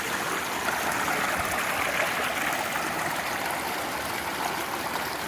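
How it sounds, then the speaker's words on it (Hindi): Spring water flows steadily through the Jim Corbett jungle, a continuous close rushing stream sound at even loudness throughout, with no voices. "अब ये पानी है, स्प्रिंग वाटर है जो यहाँ से बहता है।"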